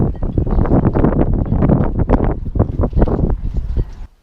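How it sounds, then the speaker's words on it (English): Strong gusty wind buffets the microphone outdoors by the water, loud rough rumbling bursts coming in irregular waves for several seconds before easing off at the end. "right now the wind is howling"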